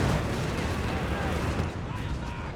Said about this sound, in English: it's getting absolutely pummeled with autocannon fire